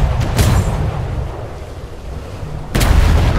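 Ship cannons boom in a naval battle in the Atlas game, a few heavy blasts with a loud one near the end over a rumbling wash of sea and wind.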